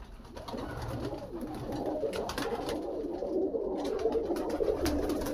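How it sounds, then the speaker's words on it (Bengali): Green pigeons in a loft cooing softly and continuously at close range, with soft low calls overlapping amid faint rustling and background noise. "নিচে থেকে উপর পর্যন্ত সব সবুজ পায়রা রয়েছে"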